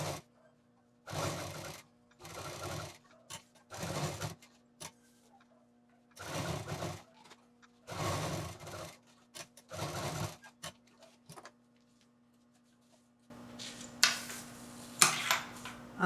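A nearby sewing machine double-stitches a zipper onto a fabric shoulder bag in short, evenly spaced whirring bursts, followed by a burst of cloth rustling and handling near the end.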